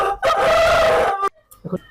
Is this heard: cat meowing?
no